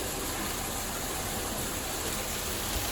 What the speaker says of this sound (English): But here's the water wheel.